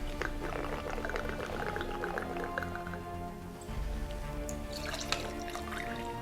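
Cognac pouring steadily into a glass, a continuous gurgling trickle with faint drips, close by and without talk.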